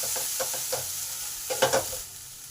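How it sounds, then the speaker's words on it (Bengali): Spice masala for a Bengali drumstick and chana dal dhoka curry is stirred and fried in a pan. A spatula scrapes in quick, irregular strokes over a continuous close-up sizzle. "এবার সমস্ত মশলাকে ভালো করে কষে নেব।"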